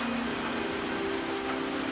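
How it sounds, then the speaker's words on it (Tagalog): Heavy rain pours in a steady, even hiss without letup, a dense wash of falling water with a faint tonal hum running underneath and no voices. "Lakas ng ulan."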